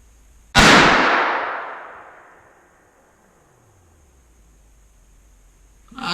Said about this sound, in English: let's see what happens with this first shot.